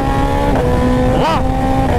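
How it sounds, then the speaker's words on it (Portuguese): A BMW S1000RR motorcycle engine holds a steady high rev, with a brief dip and pitch sweep as it shifts gear around the middle, close and loud. "Ó a troca de marcha dela, mano."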